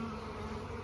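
Honeybees drone steadily around an open hive with the frames pulled apart, a close, continuous buzzing hum that holds even and unbroken through a brief moment.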